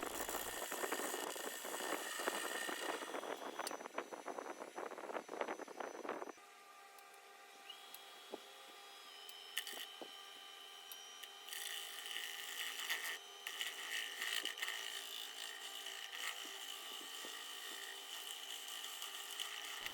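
A woodturning tool cuts and finishes the bottom surface of a crotch wood piece spinning on a lathe, a continuous scraping hiss with steady motor hum that shifts tone partway through, loud and unbroken.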